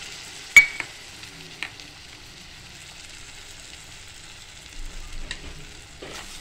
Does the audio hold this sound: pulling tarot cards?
no